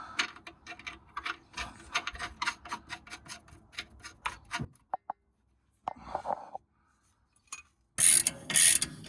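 A ratchet clicks in rapid, even bursts as a nut is run down onto a bolt on a car's rear suspension, followed by pauses, a few scraping handling sounds and a final sharp rattle, all close and fairly quiet.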